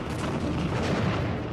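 A dense, rumbling barrage of heavy World War II battle gunfire and booms rolls on continuously, loud and thick with no distinct gaps.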